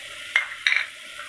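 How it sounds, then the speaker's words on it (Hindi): Tomatoes frying in a pan with a soft steady sizzle, broken by a couple of brief scraping stirs of a spoon against the pan, close and fairly quiet. "अब डाल देंगे हम टमाटर को भी इसका कच्चापन दूर करने के लिए इसको थोड़ा सा भून लेते हैं"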